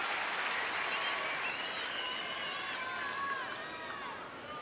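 Broad crowd roar at a 1999 Lipton Championships tennis match as spectators cheer for Serena Williams against Venus, a dense wash of cheering and whistles that holds steady and slowly eases toward the end.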